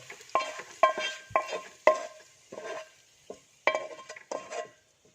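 Sautéed onions and aromatics are stirred into ghee rice in a pressure cooker: a series of spoon scrapes and light metallic clinks against the pot come in irregular strokes with a faint sizzle, close and moderately loud, with no talking.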